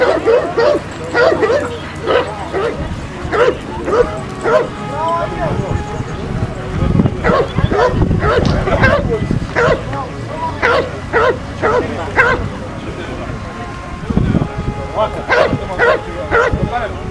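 Karaman Macedonian shepherd dogs at a national dog show, repeated close barks and yips with some whimpering, in bursts across the stretch while people talk nearby.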